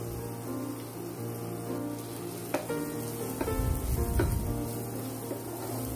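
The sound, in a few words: peas frying in oil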